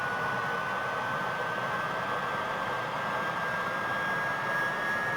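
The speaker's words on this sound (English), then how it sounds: "monitoring the engine as it spools up" A Fouga CM.170 Magister jet engine spools up in Microsoft Flight Simulator, a steady loud roaring hiss with a thin rising whine sliding slowly upward throughout, no voices.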